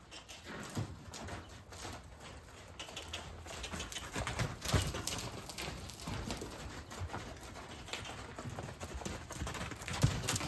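A young horse, about 16 months old, walks on a lunge line, its hooves making a steady, fairly close clip-clop rhythm over constant background noise.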